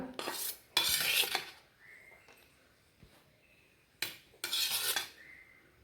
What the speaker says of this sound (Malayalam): നമുക്ക് ആദ്യമേ തന്നെ ചോറിട്ട് കൊടുക്കാം